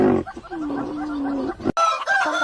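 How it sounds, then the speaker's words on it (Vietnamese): A rooster crows nearby, loud and clear, with one sustained cock-a-doodle-doo call followed by a brief sharper burst. "Con gà trống."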